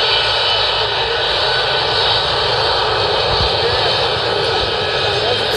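A toy US Air Force military airplane gives off a continuous, loud jet-engine roar, steady and close throughout with no breaks.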